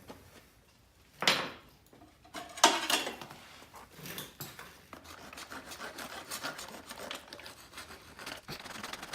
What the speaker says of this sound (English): Now, this can be chucked out and we can get on to filing.